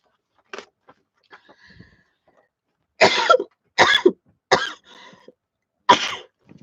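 Several harsh coughs, a few faint ones early then four loud, close bursts spaced about a second apart, with a short pause before the last.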